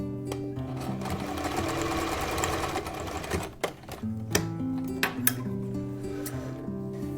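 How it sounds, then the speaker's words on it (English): A sewing machine stitches the casing of a fabric face mask, a steady whirring run of needle strokes that pauses briefly partway through, then resumes in short, close bursts. "Let me get that sewn in there first"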